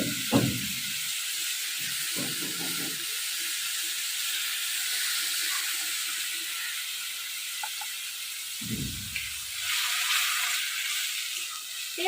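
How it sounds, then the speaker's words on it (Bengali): Hot oil sizzles and hisses steadily in a cooking pan, a continuous bright crackling spatter, with a few low thumps and knocks from the pan now and then. "তেল দেওয়ার পর যদি বেশি ছেটে তাহলে একটু লবণ দিয়ে দিবেন, অত ছাড়াবে না।"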